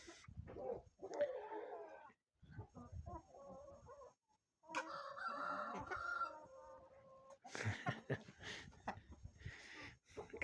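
Hens cluck and a rooster calls in a farmyard where an Indian turkey cock has been set among the chickens, bursts of fowl sounds near and fairly quiet, broken by short pauses.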